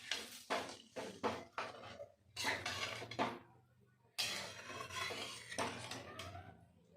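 Spoon scraping and clinking against a metal pot while stirring pabda fish curry with flat beans and potatoes, in uneven bursts of rasping stirs, fairly quiet and close.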